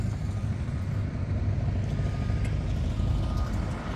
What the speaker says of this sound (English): We got dump trucks and excavators loading dirt, moving it around.